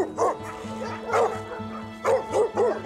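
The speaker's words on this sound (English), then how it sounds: "And Tamara is content with just her 106 dogs for company" Dogs at a home with over a hundred dogs bark and yip in quick overlapping bursts, close and fairly loud, with a whimper among them and a low hum underneath.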